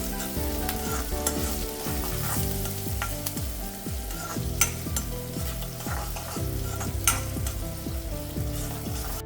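Onions and garlic frying in a pan for a sprouted mung bean curry, a continuous close sizzle with stirring clicks over a steady tonal hum, no voices.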